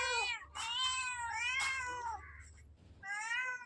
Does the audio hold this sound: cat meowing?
yes